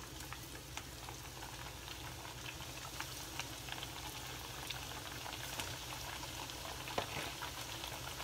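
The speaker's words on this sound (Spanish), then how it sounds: "Lo que queremos es ponerle el aceite adentro para que se cocinen muy bien de aquí del centro." Mexican sopes, thick corn masa rounds, frying in hot oil, giving a steady, moderate crackling bubble with faint pops throughout and no talk.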